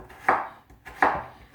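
Butternut squash being chopped into small dice on a board: two sharp, close knife strikes about three quarters of a second apart, each with a short ringing tail, and no talking.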